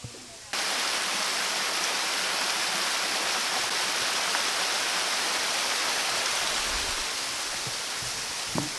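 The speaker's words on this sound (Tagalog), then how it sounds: "So, yung ilog na yan ay papunta dun sa baba." A mountain river in Montalban rushes downhill in a steady, dense broadband roar of flowing water that starts abruptly and holds loud and close throughout, with no one speaking.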